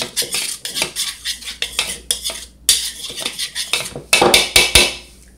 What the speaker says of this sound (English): And then I usually have a whisk and I would just mix it up.